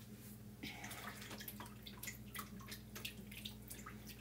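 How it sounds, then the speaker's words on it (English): Faucet water runs steadily into a sink while a Chalk Couture transfer is rinsed, a quiet continuous wash with small splashes and drips throughout, low in level with a faint hum underneath. "let me wash my transfer real quick"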